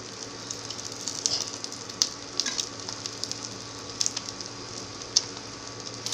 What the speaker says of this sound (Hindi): देखिए फिर से हमें इस तरह हाफ टी स्पून ऑयल डाल देना है।